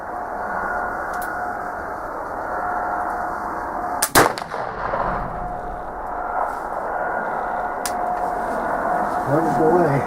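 A single loud, close report from a Traditions pellet flintlock muzzleloader rifle cracks out midway through steady outdoor background noise, with a fainter sharp click a few seconds later and no speech.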